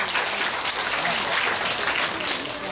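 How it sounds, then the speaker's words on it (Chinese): An audience claps loudly and steadily for the council speaker at a Kaohsiung city council budget briefing, a dense burst of applause filling the whole moment. "大家热情掌声欢迎议长。"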